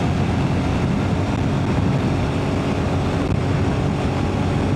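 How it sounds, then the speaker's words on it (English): Strong wind roars steadily across a rider on a Royal Enfield Himalayan 450 motorcycle at speed, a loud, unbroken broadband rush with no voices and no variation in level. "the wind is quite hard today"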